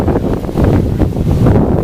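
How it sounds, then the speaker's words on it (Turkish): Heavy wind buffets the microphone, a constant loud rumbling roar with gusty fluctuations throughout. "Arkadaşlar çok rüzgar var"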